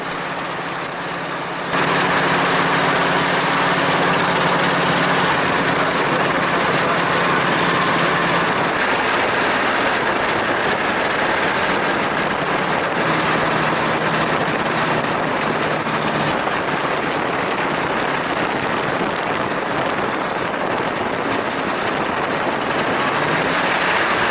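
Westland Lysander aircraft engine droning loudly and steadily as the plane taxis down a 6,000-foot runway, a constant close rumble with broad wind-like noise filling the whole stretch.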